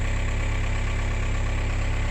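A wheel loader's engine, bought non-running and rebuilt after a busted bell housing, idles steadily in the cold with a deep, even low-frequency rumble and faint knocking texture, continuous and close with no talk.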